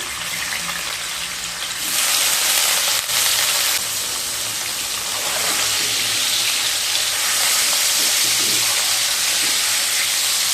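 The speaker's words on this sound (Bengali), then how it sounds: "এবার পনিরগুলোকে ভেজে নেব" Paneer cubes, 250 grams, sizzle steadily in hot salted oil for a cauliflower-paneer rezala, a dense close crackling hiss that swells louder partway through and keeps going without any talking.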